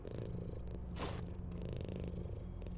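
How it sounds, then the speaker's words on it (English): A low, steady purr in an indie horror video game rumbles softly throughout, with a brief brighter noise burst near the middle. "Kind of sounds like a cat purring"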